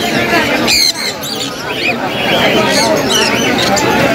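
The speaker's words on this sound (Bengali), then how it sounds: "হাতে এটা হচ্ছে আফ্রিকান গেরে প্যারট।" A three-year-old female African grey parrot at a bustling bird market in Mirpur gives loud, harsh squawks up close, over crowd babble and nearby talk.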